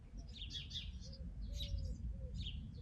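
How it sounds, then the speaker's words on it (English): Birds chirp in a few short, high bursts, faint and somewhat distant over a low background rumble. "The bird song's rather lovely."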